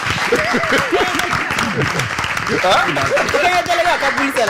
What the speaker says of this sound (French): on va applaudir pour les délégués quand même